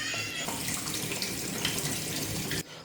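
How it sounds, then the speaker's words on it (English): Cold tap water pours steadily into a sink over a Vinod pressure cooker, a broad continuous hiss and splash that cuts off abruptly near the end. "transfer your pressure pot into your zinc and just run cold water on it until it cools off"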